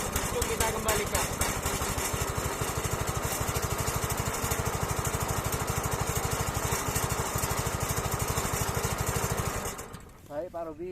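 A PS40 brush cutter's small two-stroke engine runs steadily and loud, close by, with a fast rhythmic putter for about ten seconds before it cuts off. A voice begins speaking just as the engine stops.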